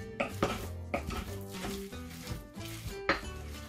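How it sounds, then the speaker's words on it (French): Sweet potato and carrots mixed with a wooden spoon in a bowl, producing irregular knocks and scrapes against the bowl with soft mushy stirring between, close and moderate in level. "Sinon, on va mélanger avec la cuillère en bois."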